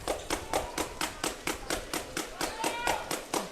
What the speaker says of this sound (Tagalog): Malakas na talaga yung mga palakpak.